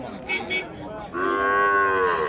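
Cows at the Uthangarai Friday cattle market: a single long, loud, drawn-out moo close by, preceded by faint background voices.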